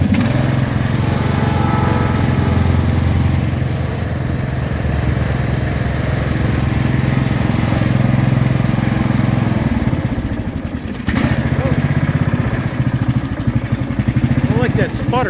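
A Poulan Pro lawn tractor engine runs close by with an uneven, sputtering drone that briefly stumbles near the end, mostly alone with little else over it.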